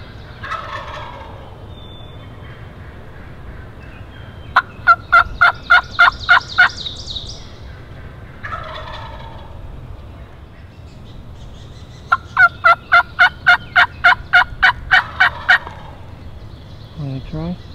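Wild turkey gobbles during a spring hunt in thick Pennsylvania woods, two rapid rattling gobble bursts a few seconds apart, loud and fairly close over a steady background hiss, with no talking.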